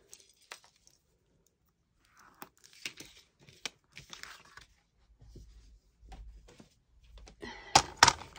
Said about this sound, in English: So we need to cut that down.